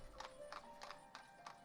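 Horse hooves clip-clop in a steady rhythm of about five soft strikes as a horse-drawn wagon arrives in the village-building game Ostriv, faint and distant.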